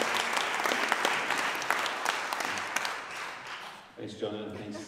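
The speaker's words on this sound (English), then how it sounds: "Give them a round of applause." An audience applauds a couple invited on stage, with dense clapping that thins and fades near the end before a voice begins speaking.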